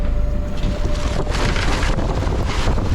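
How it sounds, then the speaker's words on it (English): Rough North Sea waves smash against the stern of a small sailing boat under strong wind, a loud, constant roar of wind buffeting and rushing water with surging swells. "Angry waves were now smashing into the stern."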